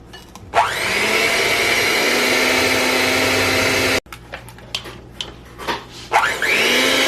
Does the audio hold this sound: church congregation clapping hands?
no